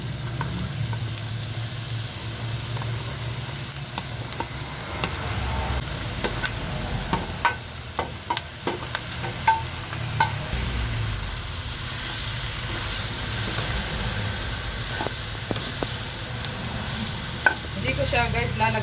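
Bottle gourd (upo) goes into a pan with soy-marinated meat and sautés with a constant hissing sizzle, broken by scattered clacks and scrapes of a spatula stirring against the pan.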